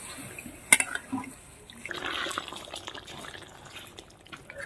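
A little water poured into a pan of masala during cooking, a brief splash and sizzle after a sharp clink, followed by a soft liquid bubbling hiss.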